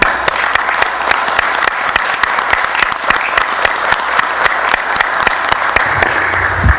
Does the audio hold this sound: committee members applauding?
yes